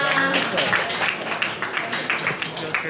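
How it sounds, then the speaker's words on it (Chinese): An audience applauds to welcome a beauty queen on stage at an award ceremony for a legs queen pageant final. The clapping is brisk and scattered over a murmur of voices. "来，掌声欢迎我们的拉拉。"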